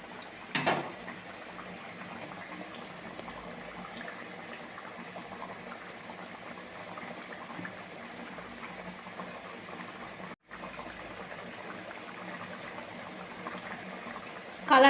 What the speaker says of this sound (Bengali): মাছগুলো দেওয়া হয়ে গেছে, এবার ফুটবে, কিছুক্ষণ ফুটিয়ে নেবে।